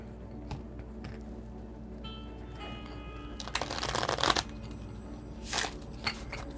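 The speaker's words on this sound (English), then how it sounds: "Let me do a better shuffle than that." Tarot cards being shuffled by hand, with soft flicks and riffles building to a louder burst of rapid shuffling near the middle and a shorter riffle toward the end, close and quiet with no talk.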